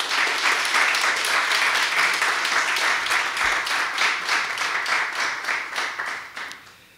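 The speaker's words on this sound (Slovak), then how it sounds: "prosím o veľký potlesk pre nich, ale aj pre všetkých ostatných pedagógov" Sustained applause for nominated teachers at a Slovak gymnasium award ceremony, a dense crowd clapping steadily for several seconds before fading toward the end.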